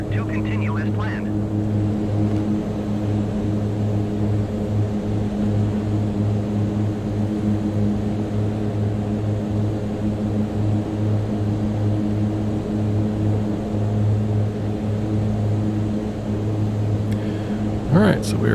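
Mitsubishi MU-2 turboprop engines droning in flight after departure from Colorado Springs, a loud steady cabin hum with a constant tonal whine and no break across the whole stretch. Brief radio chatter comes through faintly at the start and end.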